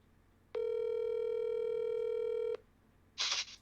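A telephone dial tone holds steady for about two seconds and then cuts off, followed by a short burst of noisy dialing, all close and alone.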